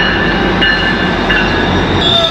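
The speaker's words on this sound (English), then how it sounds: "So there's a GO train coming through now." A GO commuter train passes through Mount Dennis station in Toronto, loud and close, with a steady rumble, rolling wheel noise and high metallic squeal throughout, no voices.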